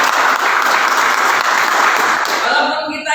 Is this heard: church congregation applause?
yes